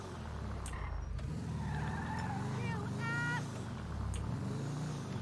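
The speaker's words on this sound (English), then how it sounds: "Well, I'm in a car now." A car in a game drives with a rumbling engine while tires squeal and skid in short wavering bursts; voices talk over it at moments.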